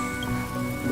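Video game rain falls in a steady, dense patter of drops on surfaces, continuous and moderately loud over a faint tonal background hum.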